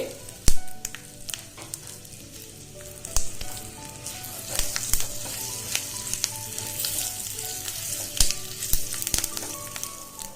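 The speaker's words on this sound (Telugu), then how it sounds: "సిమ్లో పెట్టి దోరగా వేయించుకుందాం ఇప్పుడు దంచి పెట్టుకున్న ఏడెనిమిది వెల్లుల్లి" Seven or eight crushed garlic cloves frying in oil for a tomato rasam tempering, a loud continuous sizzle with crackling pops and occasional sharp spatters, close and alone.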